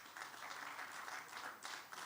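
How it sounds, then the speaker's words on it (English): Steady applause from an audience at a Pan-African leadership conference graduation ceremony, a dense, continuous patter of many hands clapping at moderate distance for the whole stretch. "Oh, please keep clapping for them."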